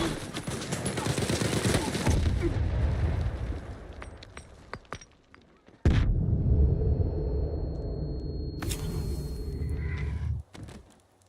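Gunfire in the video game S.T.A.L.K.E.R. 2 comes as bursts of rapid shots and loud cracks in two volleys with a quieter gap between them, and a voice is faintly heard in the mix.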